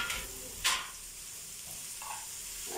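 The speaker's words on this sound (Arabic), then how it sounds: "هنزل بقى بالسجق اهوت على البصل" Sausage frying on top of seasoned onions in a pan: a close, even sizzle with one sharp utensil knock early on and a few light stirring touches.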